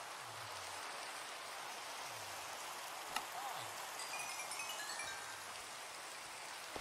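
Rain falling in the video game Minecraft: a steady, soft hiss of rainfall throughout, faint and even, with a few low thuds and small clicks underneath.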